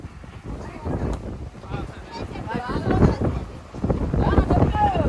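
Strong stormy wind roars and buffets against the microphone in uneven gusts, rising louder toward the end, with voices talking over it.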